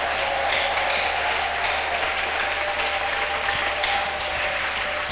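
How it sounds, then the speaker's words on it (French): Sustained, dense applause from a church congregation praising Jesus during a prayer service, steady and loud throughout with no breaks. "Shangilia Yesu kwa makofi na vigelegele sana."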